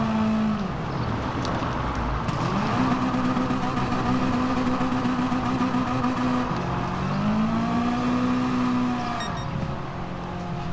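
A car engine in the Gran Turismo Sport video game revving up and down through gears in steady rising and falling sweeps, continuous and close, with no talk over it.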